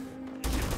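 The Peacekeeper gun in Starfield opens fire abruptly after a quiet moment, with a dense, loud, rapid automatic burst that fills the rest of the short moment.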